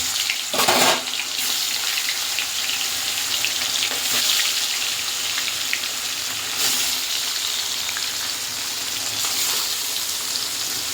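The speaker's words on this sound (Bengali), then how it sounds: "মাছগুলোকে ভাজা করা হচ্ছে" Pieces of katla fish frying in hot oil give off a loud, dense, continuous sizzle close up, with a short burst of spattering near the start and no talking.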